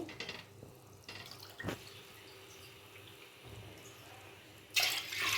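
Water splashes into a cooking pot on a lit stove as milk and water are added for sweet rice, a few short pours, then a louder, steadier stream at the end.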